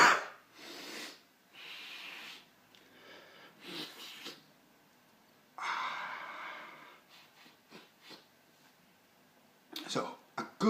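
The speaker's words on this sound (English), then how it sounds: "Oh yeah, this is gonna be a hard sniff." A hard sniff of nasal snuff (Swisher Square), several sharp breathy nasal inhalations and snorts close up, with a long forceful sniff in the middle and brief breaths between.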